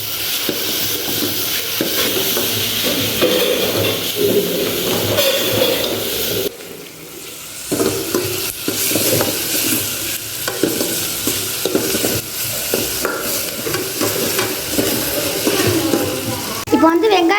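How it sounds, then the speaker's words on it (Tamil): Onions and tomatoes fry in a pan while being stirred, a continuous close sizzle broken by scraping stirs and a brief quieter gap partway through, with a voice speaking over the cooking at times. "நம்ம இதில் தக்காளி போட்டுக்கிறோம். இதையும் போட்டு நம்ம நல்லா வறுத்துக்கலாம்."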